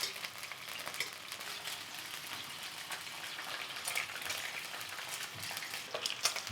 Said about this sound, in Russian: И мне нужно буквально немножко обжарить утиные желудочки.